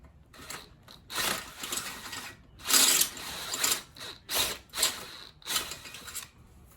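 Power drill with a step bit boring a hole in an air compressor handle, running in repeated bursts with short pauses, loud and close, no speech.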